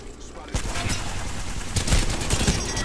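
Video game gunfire crackles in loud repeated bursts, a dense fusillade of shots running nearly continuously at close range over a steady game background.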